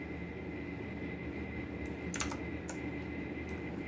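Computer keyboard being typed on at a desk while entering fastboot commands to flash a recovery image, a few scattered key clicks over a steady background hum.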